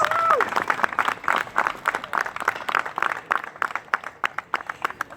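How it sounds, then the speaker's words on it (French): Audience at a carnival prince introduction breaking into applause, dense hand clapping that starts strong and thins into scattered claps, with voices mixed in. "Je vous demande d'applaudir Bérangère, s'il vous plaît."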